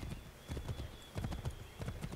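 Rhythmic clip-clop of a galloping horse in the video game Assassin's Creed 3, quick repeated hoofbeats in uneven groups, moderately close and alone without talk.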